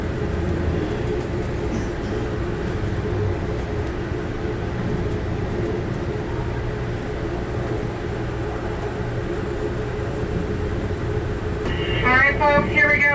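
The Amtrak Pennsylvanian rides around Horseshoe Curve with a steady, dense rumble of wheels and cab noise throughout, and a faint high squeal rising near the end.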